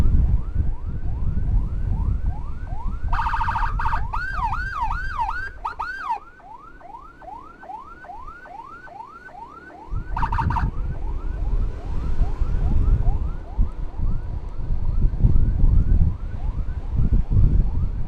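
An ambulance siren wails repeatedly in a fast up-and-down cycle, loud and close, with bursts of horn blasts and a brief lull before the wail resumes over road and engine rumble en route to Ciamis.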